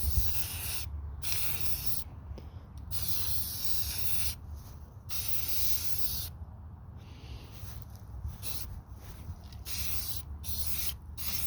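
A spray can laying a light coat of paint on a part, several long hissing bursts broken by brief pauses, close and fairly loud with no voices.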